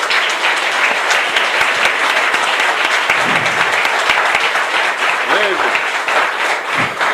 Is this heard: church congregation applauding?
yes